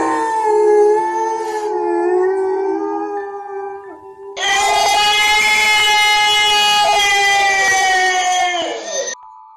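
A creature lets out two long, loud, wailing cries of pain, the second higher and more strained, with no talking.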